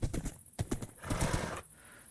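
A horse in Minecraft, with quick hollow clip-clop hoof steps and a brief whinny, close and clear with no talking.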